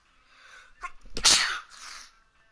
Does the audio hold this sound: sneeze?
yes